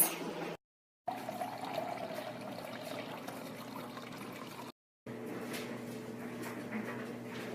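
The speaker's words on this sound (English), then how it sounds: "Very relaxing to hear water." Water trickles and pours steadily into a container, a soft continuous splashing that runs for several seconds with two brief silent breaks.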